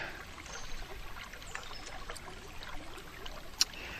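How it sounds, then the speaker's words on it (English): Stream water flowing along a wooded hiking trail in Chewacla State Park, a soft continuous trickle and burble at low level, with no voices and one brief sharper splash near the end. "listen to the water"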